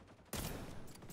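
A single L115 sniper rifle shot in the video game XDefiant, fired with a sudden sharp crack that decays into a sustained rumbling tail, heard fairly faintly and alone without talking.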